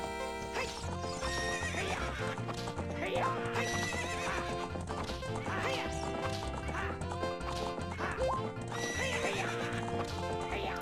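Horse neighs and clip-clopping hooves from the video game Ocarina of Time play over constant busy game music and effects, with a voice talking faintly underneath.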